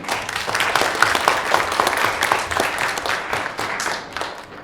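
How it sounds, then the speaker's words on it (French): An audience at a voice-actor conference applauds steadily for several seconds, dense hand clapping from a sizable crowd in a hall, fading slightly near the end. "je vous demande encore une nouvelle fois de les applaudir très fort"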